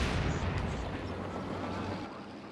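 Mortar fire in Company of Heroes 2, heavy booming artillery rumble rolling continuously with deep low-end thuds and a dull fade near the end, no voices over it.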